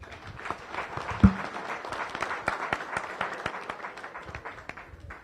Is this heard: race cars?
no